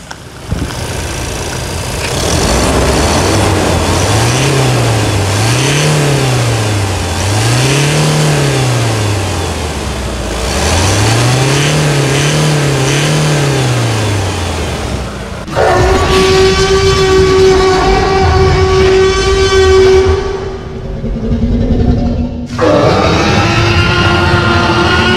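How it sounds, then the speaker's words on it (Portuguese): A new replacement engine in a 2017 Toyota Hilux pickup revs up and down in repeated surges close by, then settles into a steady, droning tone with a sharp harmonic whine. "Vamos encerrar com a melodia desse motor novo aí? Esse motor zero? Acelera o motor."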